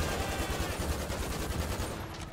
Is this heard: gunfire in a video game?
yes